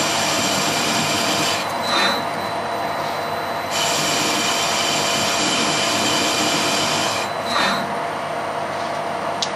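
Stainless steel is machined with cutting fluid, giving a continuous harsh rasping, scraping cut with a few brief brighter squeals, loud and close with no talk.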